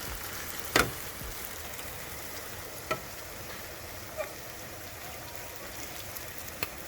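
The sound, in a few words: egusi frying in oil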